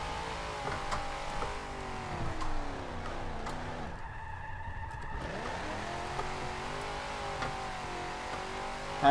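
Handbrake turn in Forza Motorsport 7, a car engine revving and dropping through gears as tires squeal and skid, with a brief lift mid-turn before the engine climbs again.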